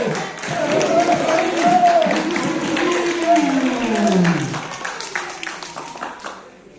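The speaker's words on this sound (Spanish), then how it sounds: "Los aplausos, señoras y señores." An audience at a lucha libre wrestling event applauds with scattered clapping and some cheering, swelling then fading out, while voices call out over it in Spanish.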